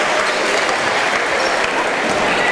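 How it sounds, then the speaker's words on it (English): Sustained crowd applause in a high school gym at a boys' basketball game, dense steady clapping filling the space without pause. "Getting another hand from the crowd."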